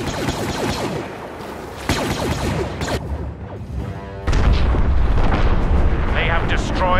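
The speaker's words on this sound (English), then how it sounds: "Those explosives are about to go off." Explosives going off in the Star Wars Battlefront shooter: loud booming blasts and rumbling detonations amid ongoing battle noise, with a voice speaking over the chaos.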